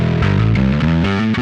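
A bass guitar plays through a GR Bass Dual head on its distortion channel: a short, loud riff of gritty, overdriven notes stepping quickly up and down, heard alone.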